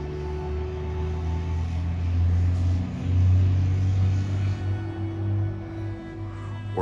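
A bus passes at night near a college campus, a low engine rumble that swells and then fades as it drives by, heard alone without talk.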